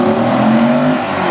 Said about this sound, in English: press the gas of that beautifully sounding 5-liter V10